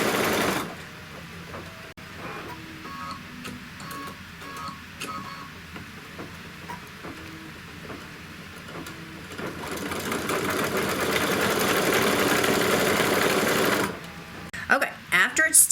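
A Kimberbell embroidery machine stitches channels for chenille through layered fabric in a hoop, a close, steady rapid mechanical whirring and ticking that grows louder and denser later, with a person talking over it.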